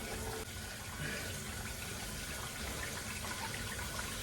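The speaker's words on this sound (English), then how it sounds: "I'm just going to add hot water." Hot water pours steadily into jars of seasoned ground beef taco meat being packed for canning, a continuous close gushing fill with no pauses.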